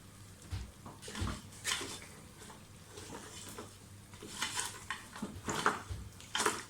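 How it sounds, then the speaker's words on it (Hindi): Metallic clanks and scrapes of a pressure cooker lid being opened after cooking goat trotters, several knocks and clinks at close range with faint background hiss. "तकरीबन 50 मिनट के बाद मैं प्रेशर की लिड खोलने लगी हूँ।"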